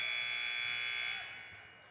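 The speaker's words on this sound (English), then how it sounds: "There's a foul right as the buzzer went off." A high school basketball game buzzer blares at Bingham High School, a loud, sustained electronic tone that holds for over a second before fading out, with no voices.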